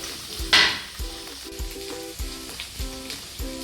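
Garlic and green chillies sautéing in a pan for karimeen (pearl spot fish) mappas: a close, steady sizzle with a regular series of stirring scrapes, about one every half second.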